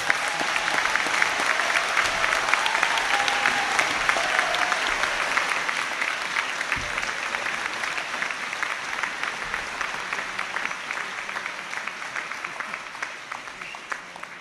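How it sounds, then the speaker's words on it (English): A final round of applause for business school graduates at a conferring ceremony: a large hall of dense, steady clapping that holds for over ten seconds and gently thins toward the end, with no voices over it. "And a final round of applause for all the graduates of the business schools."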